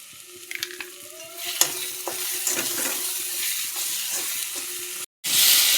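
Spices frying in hot oil in a pan while being stirred, a steady close sizzle with repeated scraping strokes of the spoon, no talk.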